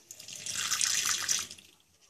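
Running tap water at medium flow while a DVD disc is being washed, a hissing stream that swells in the middle and then fades out, with no talking.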